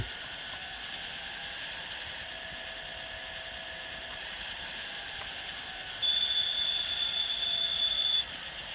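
A model locomotive's DCC sound decoder plays a steady, droning train engine rumble, joined for about two seconds near the end by a louder, bright sustained tone like a horn or whistle before the engine sound carries on alone.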